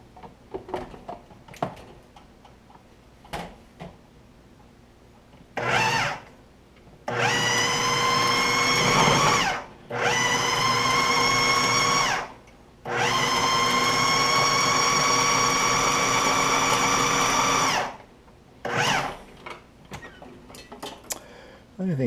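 A blender pulverizing grapes for jam runs in several loud bursts of a few seconds each, with short gaps and quiet handling noises between them.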